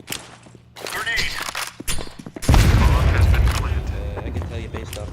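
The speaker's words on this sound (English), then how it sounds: "Grenade." A grenade going off in Counter-Strike 2: a heavy, loud boom that swells into a sustained roaring rumble after a stretch of footsteps and shots, with voices talking over it.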